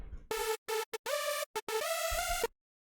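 One detuned sawtooth oscillator with wider spread, the second layer of a hardstyle supersaw lead, plays a short riff of staccato stabs and gliding sustained notes, bright, rich and unaccompanied.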